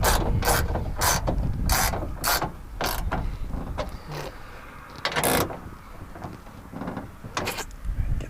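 Metal mechanism clicks and ratchet-like taps come from fitting and tightening a nut onto a bolt inside a Mustang door, a run of sharp close bursts with pauses between them.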